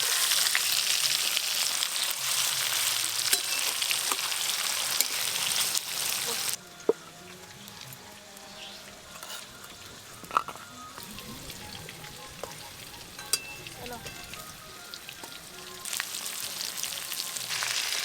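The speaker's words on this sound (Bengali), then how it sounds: "এই দেখুন অল্প আঁচে ভাজা করছি, একটুকু মশলা কিন্তু পুড়ে যাচ্ছে না।" Red bhetki fish rubbed with spices frying gently on a low flame: a dense, loud close sizzle that drops to a softer, steady crackle with occasional pops and light clicks.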